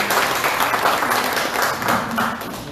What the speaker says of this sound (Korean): 우리 박수 한 번 더 보내주십시오